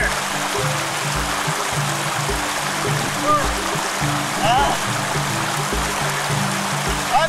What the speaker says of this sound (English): One of the things I love is just resting your feet inside of the water.